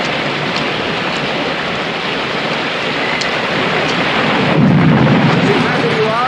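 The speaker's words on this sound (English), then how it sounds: "May we please take some shelter from the rain? I'm not so used as you to storms on the Bay of Biscay." Heavy rain pours steadily in a storm on the Bay of Biscay, loud and close, with a low rumble of thunder swelling near the end.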